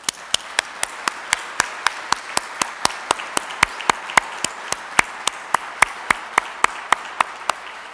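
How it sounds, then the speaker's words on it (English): At an outdoor Workers Memorial Day gathering, a single pair of hands claps close and sharp in an even, steady rhythm for about eight seconds, with faint crowd noise underneath. "let's give everybody a big round of applause."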